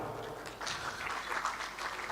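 Moderate applause from a conference audience at Esibayeni Lodge, Matsapha, as a speaker walks to the podium, steady clapping of a small crowd at medium distance, slightly uneven in density throughout.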